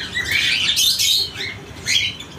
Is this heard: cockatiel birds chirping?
yes